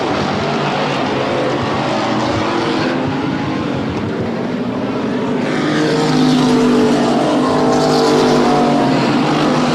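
Race cars on an oval track roar past one after another into turn three, the engines a loud, sustained snarl that swells as they go by and climbs toward the end.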